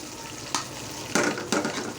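Fish pieces frying lightly in a pan give a steady close sizzle, broken by three sharp scraping bursts as they are stirred or turned, with no voices.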